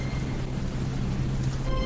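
Heavy rain in an animated Hindi children's story, a dense steady downpour hissing close and loud throughout, with a low hum underneath.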